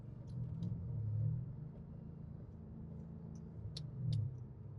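A 2006 Audi S4 Avant accelerating on a test drive, its engine a low rumbling drone that swells twice, heard from inside the car at modest level, with a few faint clicks above.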